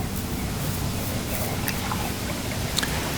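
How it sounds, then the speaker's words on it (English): A dishwasher drains after its drain cap is replaced, giving a steady gurgling water rush with a low pump hum and a few faint clicks and drips, continuous and close. "I'm going to see if it'll drain now."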